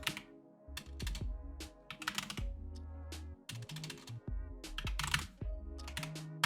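Rapid bursts of typing on a computer keyboard, close and fairly loud, with uneven clusters of keystrokes separated by brief pauses and no voices.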